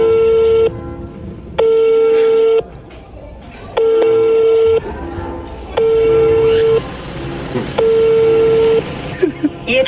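A telephone ringback tone plays while the called number goes unanswered: five loud, even bursts of about a second each, separated by short pauses, with faint background noise between them.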